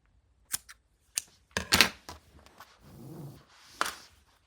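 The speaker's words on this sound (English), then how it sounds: "So I will cut the yarn." Scissors snip through crochet yarn: several sharp, separate clicks and cuts at close range, spaced irregularly in a quiet room, with a soft rustle between them.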